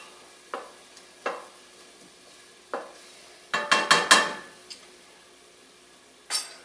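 Onion and garlic sautéing in a pot for broccoli cheese soup, with a soft low sizzle under a handful of separate spoon scrapes and knocks, one quick cluster of stirring strokes in the middle, all fairly quiet and close with no talking.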